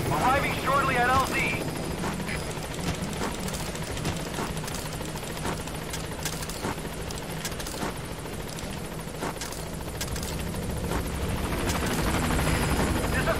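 A helicopter arriving at a landing zone in Metal Gear Solid V: The Phantom Pain, its loud rotor chop and engine roar continuous throughout, with sharp bursts and voices over it.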